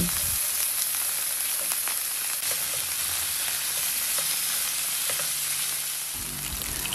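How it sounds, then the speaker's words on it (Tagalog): Chicken pieces frying in olive oil in a heated pan, a steady dense sizzle with faint crackles and occasional stirring clinks, close and continuous with no talk. "Then, isa-isang ilagay yung inyong chicken. And then, fry natin to hanggang sa maging golden brown."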